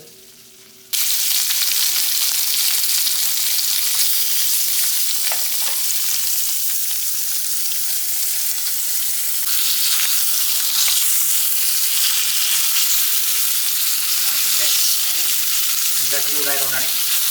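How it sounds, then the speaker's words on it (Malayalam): Oil sizzles loudly and steadily in a pan as kana fish fries, with a low hum underneath and a few soft clinks near the end. "അപ്പൊ നമ്മുടെ മീൻ വറക്കൽ ഇവിടെ നടക്കുന്നുണ്ട്"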